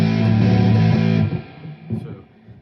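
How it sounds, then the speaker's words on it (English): A distorted electric guitar strikes a barre chord. The chord rings loud and close for just over a second, then is cut off, leaving a few faint scratchy sounds. "And I just leave my distortion on."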